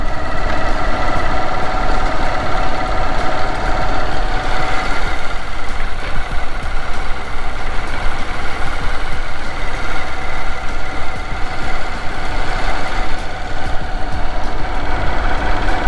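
A motorcycle engine idles steadily at close range on an abandoned World War II runway, a loud, constant low rumble with a droning hum that holds without pause, and no one talks.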